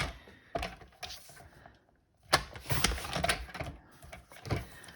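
Paper being trimmed down for a card mosaic, heard as close, crisp cutting and rustling bursts with a short pause midway, loud and alone without talk.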